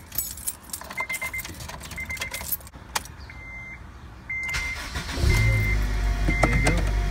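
An Acura RSX DC5 is started inside the car: keys jangle near the ignition, warning chimes beep repeatedly, then the engine cranks and catches into a steady low idle rumble, close and fairly loud.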